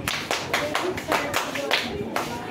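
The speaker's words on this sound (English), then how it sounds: "Clap for her again." Group of sisters clapping for a girl student in a classroom lesson on Yoruba culture, a burst of several loud claps in uneven rhythm lasting a couple of seconds, with no talk over it.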